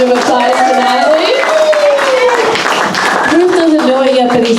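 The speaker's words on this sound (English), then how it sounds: "So a big round of applause for Natalie." An audience applauding for Natalie at a yurt gathering, sustained clapping and crowd noise running throughout, with voices cheering and calling out over it.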